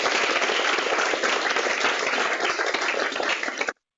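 A conference audience applauds a speaker after a planetary science session, producing dense, sustained clapping at even loudness that cuts off abruptly near the end.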